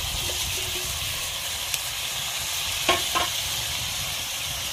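Chopped village tomato drops into a hot pan of mutton masala on a wood-fired chulha, a steady loud sizzle and frying hiss with a few soft stirring clicks and splatters, close up and without talk.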